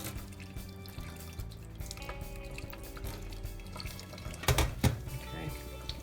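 Water gently poured over a doll's hair to straighten it, a soft trickling and splashing that runs under the whole stretch, with a louder splash near the end.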